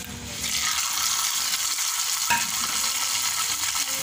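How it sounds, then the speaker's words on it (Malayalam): Mustard seed tempering with curry leaves is poured into a curry, producing a loud, steady hiss of sizzling oil with one brief clink partway through. "നമ്മുടെ കറിയിലേക്ക് നമുക്ക് ആ കടുക് പൊട്ടിച്ചത് ഒഴിച്ചു കൊടുക്കാം."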